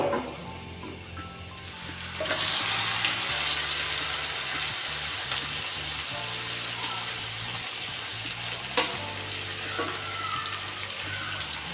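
Marinated chicken is stirred into hot oil in a pot on high heat, and a loud, dense sizzle bursts up and holds steady after a quieter start, with a sharp scrape of the spoon near the end.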